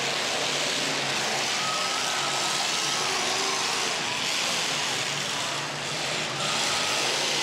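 A big engine of a destruction derby car roaring at an outdoor derby, a loud continuous rumble with slight dips, heard at a distance amid broad crowd and arena noise.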